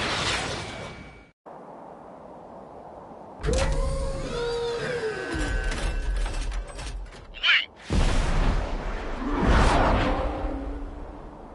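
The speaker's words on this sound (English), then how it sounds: "UAVs ready to launch. Away." Game-world UAV launch sequence in Ace Combat 7: after a brief hush, layered mechanical whirring, creaking and pitch-sweeping servo whines build, then a sharp whoosh and a louder rushing release as the drones are sent away, with no talking.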